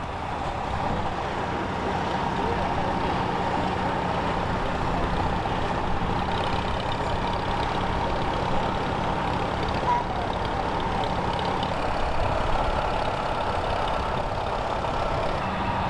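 A 1940 Farmall H tractor runs steadily at a threshing bee, its engine a continuous low rumble with a broadband mechanical roar that holds level throughout, close by and without a break.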